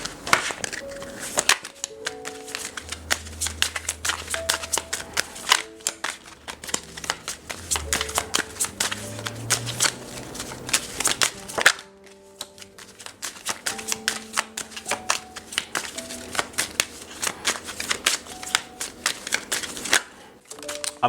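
Playing cards are shuffled repeatedly in quick riffling bursts, crisp and close, with a short pause midway and soft background music underneath.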